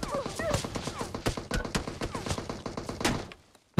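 Gunfire crackles from a rooftop in PUBG Mobile, rapid repeated shots in quick bursts over a busy mix that includes other game sounds, ending in near silence.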